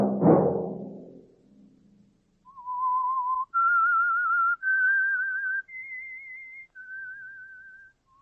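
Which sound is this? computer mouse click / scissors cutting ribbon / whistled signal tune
whistled signal tune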